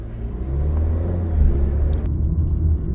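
An Alfa Romeo Giulia drives on a wet race track at Blackhawk Farms Raceway, its engine rumbling low and steady from inside the cabin, with a brief change partway through.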